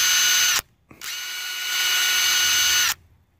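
A 12-volt cordless impact driver sinks a 1/4-inch lag bolt in two close bursts, a brief whir followed by a longer, loud hammering rattle that stops abruptly.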